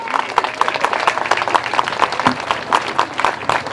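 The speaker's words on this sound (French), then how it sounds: "je crois que vous pouvez vous applaudir" Campaign activists at a rally applaud steadily, a dense crowd clapping with a fairly regular rhythm, loud and sustained throughout.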